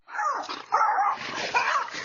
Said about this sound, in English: This little tiny dog was brave enough to scare away this bear.